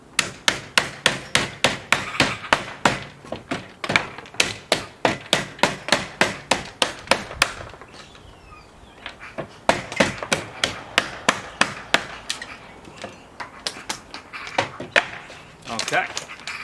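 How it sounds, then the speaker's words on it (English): A hammer smashes chunks out of a timber piece for a spinning hoofstock feeder, sharp loud blows in fast steady bursts, a short pause, then another run, with speech faintly between strikes. "we're going to get a really great hammer and we're going to smash those bits out"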